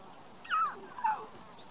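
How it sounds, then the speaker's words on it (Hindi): Two short, high, whining calls, one after the other, come from a cheetah mother calling her cub at a moderate distance, with quiet open-air background and no talking. "ये उमजाली की आवाज है जो उसाना को वापस बुला रही है।"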